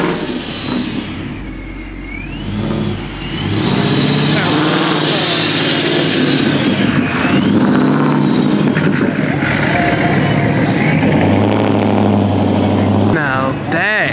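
A Subaru WRX engine rumbles steadily at a roadside car meet, a loud continuous drone with rising and falling revs and voices chatting over it throughout.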